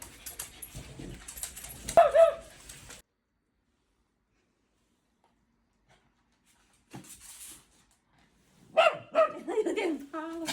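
Puppies yip, bark and whimper in short bursts indoors, with a long quiet gap between them and people talking nearby.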